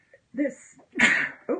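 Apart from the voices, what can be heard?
sneeze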